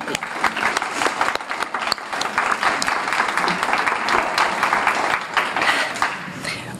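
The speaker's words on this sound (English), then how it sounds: "Let's have a round of applause for Kathy." Warm applause from a crowd at an outdoor dedication ceremony for the Blue Spring Missouri Bicentennial public art mosaic, dense clapping sustained for several seconds with faint voices mixed in.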